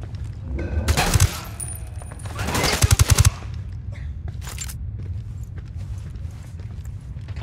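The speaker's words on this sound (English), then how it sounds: "I'm shooting these fuckers." Bursts of rapid automatic gunfire in Ghost Recon: Wildlands, two long loud volleys followed by a few scattered shots, close and punchy with no speech over it.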